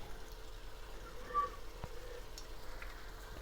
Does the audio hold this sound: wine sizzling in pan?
yes